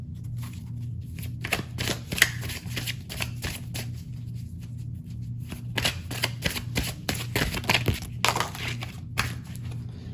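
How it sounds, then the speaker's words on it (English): A deck of oracle cards is shuffled by hand at close range, a quick series of papery riffles and slaps repeating in bursts over a steady low hum. "let's grab a couple oracle cards"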